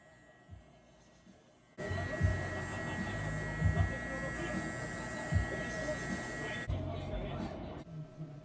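Electric hair clippers fitted with a number 2 guard, lever fully open, buzz steadily up close while removing bulk during a high taper haircut, starting after a quiet moment and running continuously before cutting off near the end.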